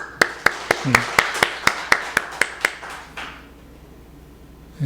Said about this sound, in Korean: 우리 박수 한번 쳐주시죠.